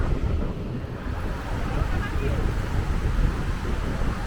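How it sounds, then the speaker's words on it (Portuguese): Strong wind buffets the microphone on the Leblon boardwalk in Rio de Janeiro with a constant low rumble and roar, gusting slightly louder toward the end. "Hoje está ventando bastante"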